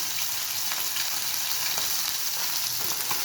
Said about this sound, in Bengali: এই আমি এখন মাছগুলো বাইতে এই যে তরকারিতে দিই।